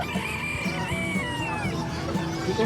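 A bantam chicken makes close, repeated clucking and warbling calls at a pet market, fairly loud, with no talking.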